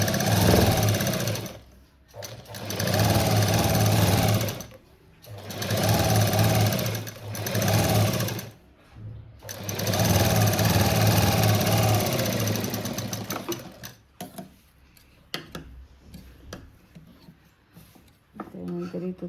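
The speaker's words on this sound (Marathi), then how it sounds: "तर आपण इथं पहिल्यांदा शिवून घेऊ पाठीचा भाग." A sewing machine stitches the back piece of a blouse in bursts of a few seconds each, a rapid mechanical chatter that stops and starts, with someone talking in the pauses.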